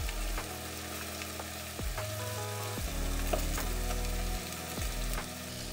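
Yogurt-coated saffron rice layer sizzling steadily in an oiled pot for Persian tahdig, with a continuous close crackling hiss and a few scraping touches.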